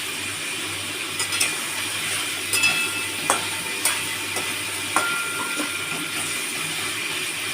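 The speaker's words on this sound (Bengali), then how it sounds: "আচ্ছা, দেখুন আমি নাড়ছি এটা" Vinegar-marinated chicken with mushrooms stirred in a pan, a low steady sizzle broken by several sharp spoon clinks and scrapes against the pan, close and without talk.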